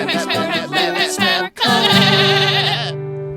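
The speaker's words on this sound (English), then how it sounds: "The goats won't stop singing." Goats bleating loudly and close, a run of wavering cries, a brief pause, then one long drawn-out bleat, with no other sound around them.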